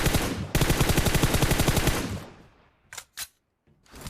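Video game gunfire from a rapid automatic burst, loud and rhythmic, which fades out and is followed by two sharp single shots and then another shot.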